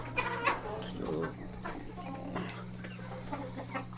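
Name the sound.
farm chickens feeding on rice and maize feed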